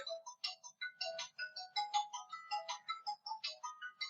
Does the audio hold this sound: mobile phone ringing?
yes